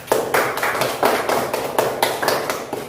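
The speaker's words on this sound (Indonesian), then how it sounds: "Tepuk tangan untuk kelompok 4." A classroom group of students applauds for a presenting group, broad claps rising in repeated bursts for about three seconds, fairly loud and near, no voices over it.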